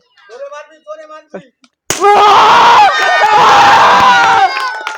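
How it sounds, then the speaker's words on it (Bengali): An audience at a children's pot-breaking prize contest bursts into loud, sustained cheering and clapping with shrill children's shouts after a few short spoken phrases, then stays noisy and close. "সকলে চলে হাততালি"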